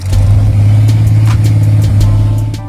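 A 1916-era American La France vintage engine at a classic car show runs loud and close with a deep, throbbing rumble and steady rough pulsing, with some sharper clacks above it.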